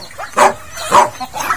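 A dog on a farm with ducks, chickens and goats gives three sharp barks, close and loud, spaced about half a second apart.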